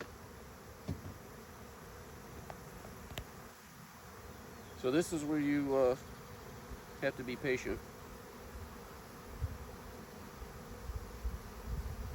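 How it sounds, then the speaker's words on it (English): A honeybee swarm in a tree buzzes around the microphone, with faint continuous hum and a few louder close passes, while someone speaks briefly. "See all those bees swarming?"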